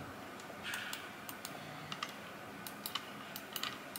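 Light, crisp button clicks tapped on a TourBox NEO video-editing controller in an irregular run, close and fairly quiet over a soft room hiss.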